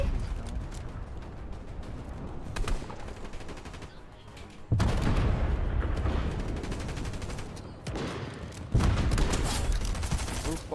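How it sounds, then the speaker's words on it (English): Dense bursts of gunfire and explosions fill a battle royale video game match, loud and continuous in several long stretches separated by abrupt cuts. "there's so many explosions around me"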